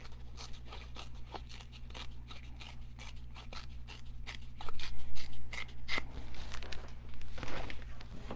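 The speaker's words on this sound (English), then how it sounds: "so I'm going to tear the bottom." Paper being torn along its bottom edge while making a fold card, heard as a run of close, crisp rips and crinkles over a steady low hum, growing louder toward the end.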